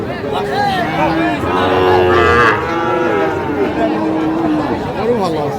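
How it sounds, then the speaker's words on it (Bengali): A Sahiwal calf lows repeatedly in drawn-out moos amid a busy crowd of people chattering close by at a cattle market in Cumilla. "শাহিওয়ালের বাচ্চা"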